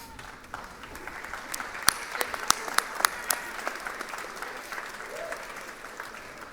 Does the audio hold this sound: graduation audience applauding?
yes